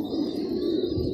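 Soft, low cooing of pigeons, a continuous murmuring burble close by with faint background hiss.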